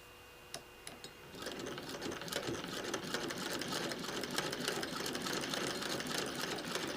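A sewing machine stitching a seam on a Prickly Pear quilt block, starting after two brief clicks and then running as a steady, fast mechanical whir of needle strokes close by, with no talking.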